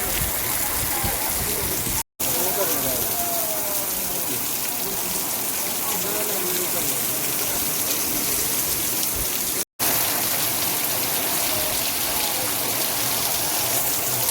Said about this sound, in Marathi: पलटणमध्ये आलो आणि जोरजोरानं पाऊस चालू झाला